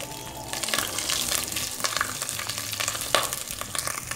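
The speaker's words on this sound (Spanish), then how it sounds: "La grasa donde hicimos el tocino, freímos el chorizo." Chorizo fries in leftover bacon fat while being broken up and stirred in a pan, a steady close sizzle broken by scraping and clattering utensil strokes, with no voices.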